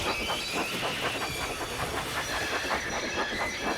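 A steam train chugs steadily with rhythmic puffing and hissing, a continuous mechanical rumble at moderate distance with no voices.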